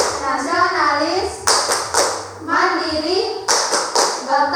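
Schoolchildren in a second-grade classroom perform a rhythmic clap chant, sharp bursts of group clapping alternating with their chanted words in a steady classroom cadence.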